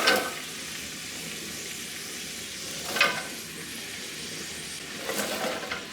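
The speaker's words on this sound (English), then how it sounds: "The onion has been sauteing now for 5 minutes. Now I am ready to add the peppers." Onion and peppers sauté in a pan for lecso, a continuous close sizzle with a few brief stirring scrapes near the start, middle and end.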